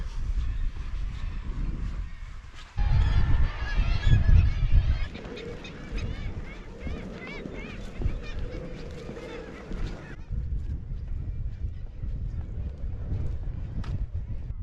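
Many seabirds call and honk in a noisy, overlapping chorus on the Isle of May in the Firth of Forth, loud at times, with wind and a voice speaking under the calls.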